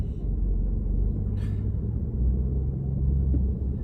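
A Jeep Trackhawk all-wheel-drive family SUV rumbles steadily while driving, a deep, constant low engine drone close by with no talking.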